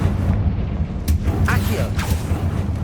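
The Confringo spell in Hogwarts Legacy bursts with a few sharp crackling impacts and whooshes over a loud, rumbling low background of magical effects.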